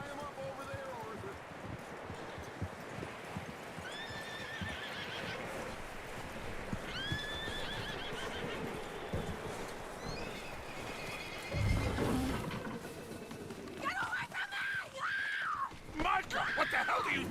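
A horse in the video game Red Dead Redemption 2 neighs several times, rising whinnies standing out over a steady outdoor ambience, with hoof clatter and voices joining louder toward the end.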